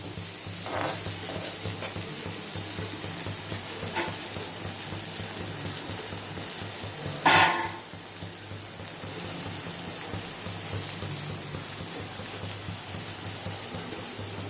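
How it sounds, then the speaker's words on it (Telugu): Bitter gourd slices frying in a pan, a steady broadband sizzle running throughout at even loudness, with a brief sharper burst of spatter or stirring midway. "ఇక్కడ మనం కాకరకాయ వేపుడు అవుతున్నది."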